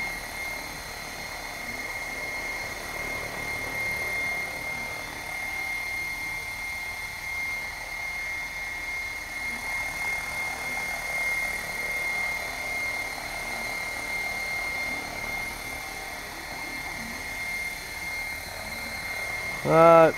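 An Assault 700 RC helicopter holds a long flight in a light breeze, its steady rotor and motor whine droning continuously at moderate distance, with a louder swell at the very end.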